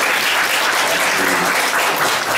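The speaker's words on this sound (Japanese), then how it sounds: "大きな拍手をお願いします" Loud, dense applause from a crowd at a year-end party, close and sustained without a break, with no talk over it.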